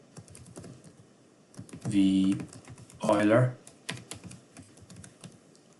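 Computer keyboard keys clatter in two quick flurries of typing, close and fairly loud, with someone speaking quietly before and after.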